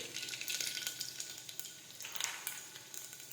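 Garlic, mustard seeds and cumin fry in hot oil, giving a soft continuous sizzle with small crackling pops, faint and close.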